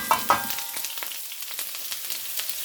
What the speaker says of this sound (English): We're going to fry our onions and peppers